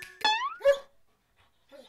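A stray dog gives two sharp, close barks, then a short pause and faint trailing sounds.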